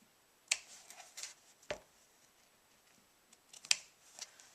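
Two or three sharp snips of scissors cut through something, brief crisp clicks separated by quiet pauses, close by with no talking.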